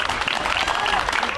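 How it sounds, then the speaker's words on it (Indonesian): Audience claps in a dense, continuous burst during an event with firefighter activities, loud and close with a lively, sustained texture. "tepuk tangan yuk"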